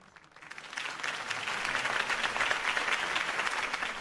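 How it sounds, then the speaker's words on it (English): A video game crowd bursts into sustained applause at a political campaign speech, swelling quickly and holding steady, loud and dense with clapping. "If only Mr. Wayne, my campaign's largest backer, could have heard that applause"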